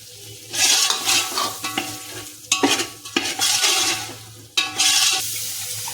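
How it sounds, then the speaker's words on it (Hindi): Turmeric roasts in a hot pan over low gas while being stirred, loud sizzling bursts broken by scraping strokes of the spoon, close and without talk. "हल्दी को भून लीजिए"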